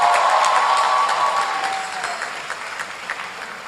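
Audience applause at a university convocation ceremony, a steady dense wash of many hands clapping that gradually thins and softens, with a brief tonal sound fading out early on.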